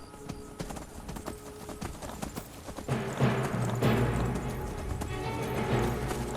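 Horse hooves galloping in the video game Skyrim, rapid rhythmic clip-clop thuds that grow louder and denser partway through, accompanied by a whinny and game ambience.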